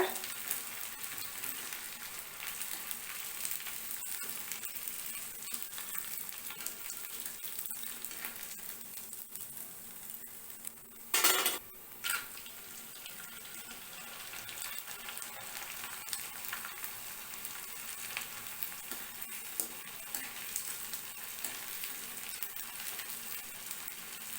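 Onion vathal, sun-dried onion fritters, frying steadily in hot oil with a continuous dense crackling sizzle, close and even throughout, with a brief louder burst of spattering near the middle.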